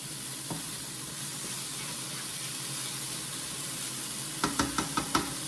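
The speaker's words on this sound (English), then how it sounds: "Put it in that skillet, put you a little bit of water in there, and let it go." Taco meat fries in a skillet with a splash of water, giving a steady, fairly quiet broadband sizzle, then a few sharp clacks of stirring near the end.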